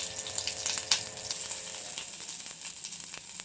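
Onion, garlic and mustard seeds fry in a little oil, popping and sizzling loudly and close, with sharp crackles spread across a steady hiss. No voices are heard.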